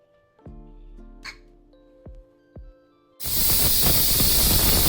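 A pressure cooker on the stove, quiet with a few light knocks and clicks at first, then its whistle bursts into a loud, sustained rushing hiss of escaping steam that lasts to the end.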